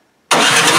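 Snow blower engine treated with Seafoam, snapping from silence into a loud, steady, close running roar as it warms up.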